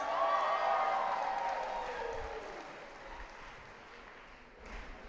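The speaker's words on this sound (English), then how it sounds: "let's give these guys, the Newlyweds, a round of applause as well" Wedding guests applaud the newlyweds, a full burst of clapping from a crowd that swells at first and then gradually thins and fades over several seconds.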